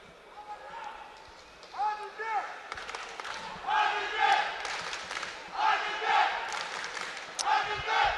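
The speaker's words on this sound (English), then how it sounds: "Adilbek is the cheer from the crowd." A boxing crowd at the world championships in Baku cheers for a fighter, rising in rhythmic, chanted waves of voices that swell and fall repeatedly, loud and close.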